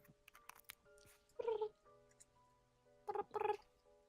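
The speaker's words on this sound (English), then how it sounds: "Oh, my cat is here." A house cat lets out two short, fairly quiet meows about two seconds apart, among soft indoor background noise and small clicks.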